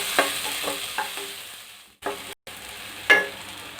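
Jackfruit pieces stirred in a kadai for jackfruit payasam, giving a few separate scraping strokes against the pan with a soft sizzle and brief pauses in between.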